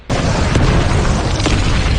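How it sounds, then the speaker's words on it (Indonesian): A loud explosion from an action film, a room blown apart by explosives, hits in a sudden burst and then rolls on as a dense, sustained roar with deep rumble and debris noise throughout. "tempat itu meledak."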